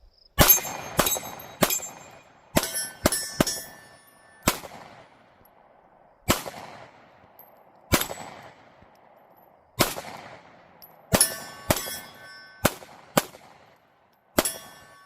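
Rifle shots ring a 6-inch steel target downrange, with about sixteen sharp cracks in uneven groups and clusters, each followed by a short metallic ring, loud and close with quiet gaps between.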